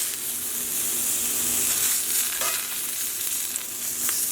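Chicken pieces sizzle in a frying pan as they are flipped, a continuous close hiss of hot fat with a brief scrape of turning partway through and no voices.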